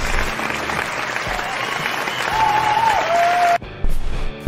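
Steady applause from a crowd fills the room, then cuts off abruptly near the end.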